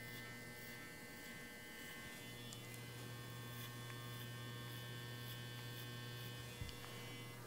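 Electric hair clippers buzz in a steady, close, continuous drone while cutting a low fade on a man's hair, with no talking over it.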